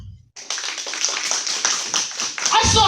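Comedy club crowd clapping after a stand-up comedian's prompt, a burst of scattered claps of moderate loudness that builds briefly before a voice returns at the end.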